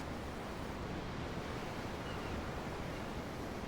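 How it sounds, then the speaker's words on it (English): Steady ocean surf from the Tales of Arise video game, a continuous broadband wash of waves rolling without a break and with no talking. "I'm looking at the ocean. The ocean? Yeah. The waves."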